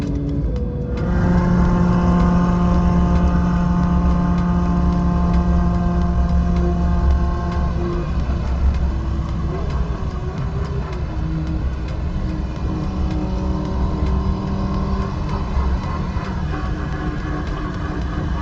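A car engine revving while warming up, held in one gear; a loud, close, sustained engine drone with rising and falling pitch as the revs shift, running unbroken with no talk.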